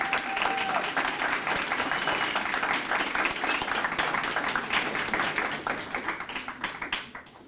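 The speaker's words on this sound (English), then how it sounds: "So give yourselves a round of applause." An audience at a school Black History Month presentation at Samuel S. Gaines Academy breaks into loud, sustained applause with dense clapping throughout, tapering off toward the end.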